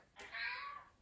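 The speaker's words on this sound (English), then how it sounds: "Please excuse my cat. I think he needs to go outside." A male house cat lets out a single drawn-out indoor meow, faint and alone, lasting under a second.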